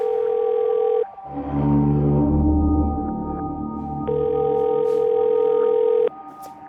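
A telephone call rings unanswered: steady repeating ringback tones, loud and close, pause for a stretch of low music in between, then resume, with no one picking up.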